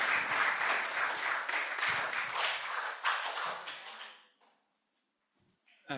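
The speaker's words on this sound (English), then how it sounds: "can we get one more round of applause for our panel, please?" Applause from an audience at a panel discussion on access to tuberculosis medicines, dense and steady, fading out after about four seconds to near silence, then a brief sound at the end.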